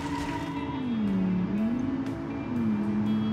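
A hatchback engine in a racing video game drones steadily near and loud, its pitch falling and climbing again as the ECU changes gears automatically, with a gear change at about a second and a half and another around two and a half seconds.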